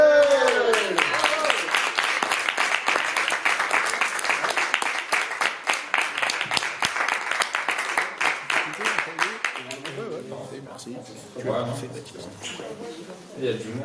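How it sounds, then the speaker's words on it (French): Audience clapping at a French poetry slam night in Vence, sharp and rapid at first, mixed with voices and cheers, then tapering off as talk takes over toward the end. "Je vous demande d'applaudir très fort, très fort, très fort"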